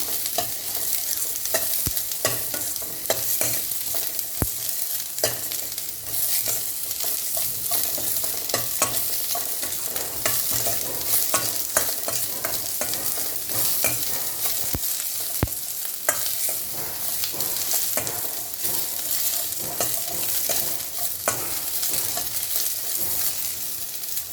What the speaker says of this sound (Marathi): कांदा व्यवस्थित भाजून घ्यायचा.